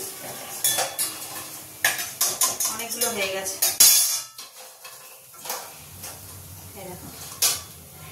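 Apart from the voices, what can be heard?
soybean koftas frying in a pan, clanking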